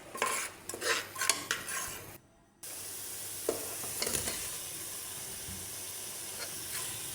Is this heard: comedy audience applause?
no